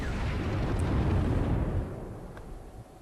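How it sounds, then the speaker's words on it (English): A heavy explosion from the Close Combat 5 war game with an explosion mod, near a trench as a tank passes, booms loudly with a sustained low rumble that fades into a quieter tail. "That is the explosion mod for Close Combat 5."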